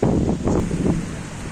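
Sea waves wash strongly onto a beach in Qatar, a loud, continuous rushing roar mixed with gusty wind buffeting the microphone, with no voices.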